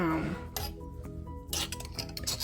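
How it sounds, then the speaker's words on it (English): A glass fermentation weight clinks inside a jar of fermenting okra, giving a few light, faint glassy taps and chinks spread over a couple of seconds, close up with some low background noise. "I have a glass weight in it holding all of the okra down"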